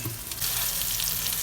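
Pointed gourd (potol) frying in a pan produces a close, dense sizzle that grows louder after a brief quieter start and holds steady.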